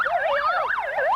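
An ambulance siren wails loudly and close by, its tone sweeping up and down in steady repeating cycles with no voices over it.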